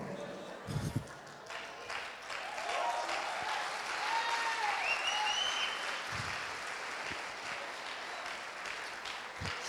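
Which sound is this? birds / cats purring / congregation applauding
congregation applauding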